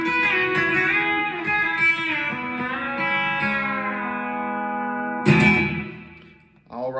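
A B-bender electric guitar plays the six-pack intro lick in E with bent, sliding notes, a short sharp attack near the end before fading, heard close and alone.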